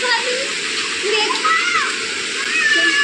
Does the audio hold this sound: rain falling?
yes